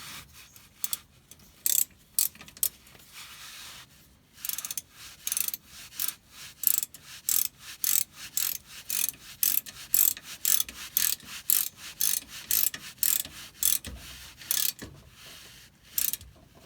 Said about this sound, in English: I don't know what torque wrench setting these are supposed to be torqued up to